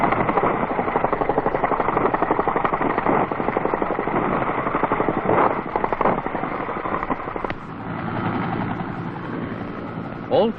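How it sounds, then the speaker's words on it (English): A United States Army resupply helicopter in 1968 South Vietnam, its loud rhythmic rotor thumping and engine whine continuing throughout, easing slightly toward the end, with no talk heard. "Resupply helicopters are made available from aviation units of the United States Army."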